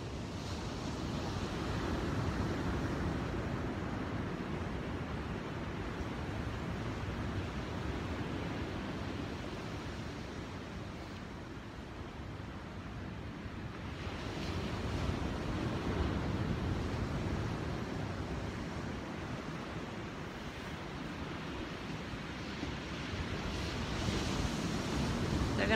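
Ocean surf rolls and breaks steadily on a beach where horses and people are body surfing, a continuous broadband wash with gentle swells in loudness, wind noise mixed in, no speech.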